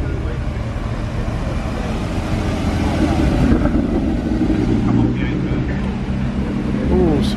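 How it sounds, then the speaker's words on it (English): Porsche cars arriving at the Beaulieu National Motor Museum for a Porsche gathering, including 991-generation GT3s; a steady broadband engine and traffic rumble runs throughout, with voices in the background. "Still coming in, the Porsches."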